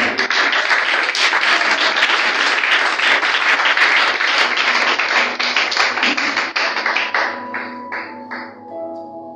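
A church congregation claps loudly and steadily in a full, reverberant burst of applause that thins into scattered claps near the end.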